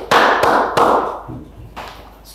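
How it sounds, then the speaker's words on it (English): A few loud, close hand claps, spaced irregularly with short pauses between them, heard alone indoors. "Why are you clapping?"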